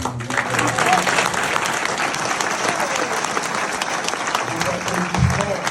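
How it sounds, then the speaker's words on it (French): Sustained applause from a live audience at a French comedian's show, dense steady clapping throughout with faint voices underneath. "les applaudissements sont importants pour moi, évidemment"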